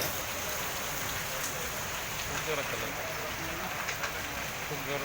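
Heavy rain pours over a street in Aurangabad as a dense, steady wash of noise with scattered drips and faint voices in the background.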